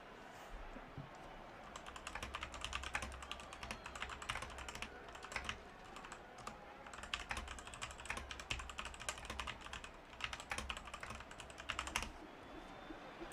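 Steady typing on a computer keyboard, a fast run of light clicking keystrokes in short bursts with brief pauses, quiet and close.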